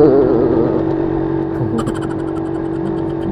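A Yamaha 125ZR two-stroke motorcycle engine runs nearby, a loud, steady buzzing drone with slight wavering pitch and a brief clattery burst partway through, no voices.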